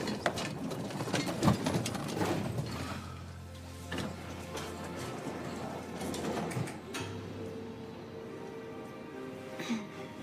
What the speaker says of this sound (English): Hold the elevator, please.